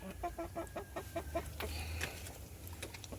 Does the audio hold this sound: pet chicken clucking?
yes